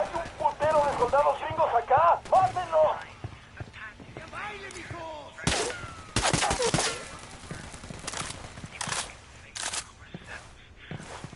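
Rapid gunfire in Ghost Recon, a video game, crackling in dense bursts and volleys under someone talking and game voices throughout.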